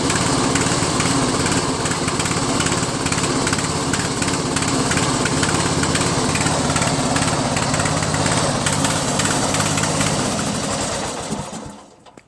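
Craftsman LT1000 lawn tractor engine running steadily and loudly at close range with a dense mechanical drone and rapid firing rattle, then cutting off and winding down to silence near the end.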